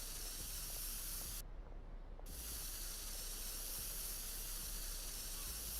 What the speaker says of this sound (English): I like how the cops don't care if you're spray painting your own vehicle.